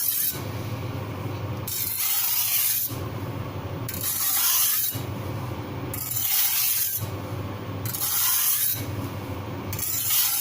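Rhythmic rasping strokes of a hardened steel knife blade drawn across a sharpener, a beginner's first attempt, in regular passes of about a second each separated by short pauses, close and clear with no talk.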